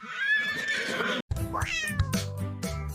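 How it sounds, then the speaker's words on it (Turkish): An animated cartoon cat meows loudly and close up, breaks off for a moment, then lets out a rising, drawn-out meow. "Bu bir kedi. İngilizce karşılığı cat."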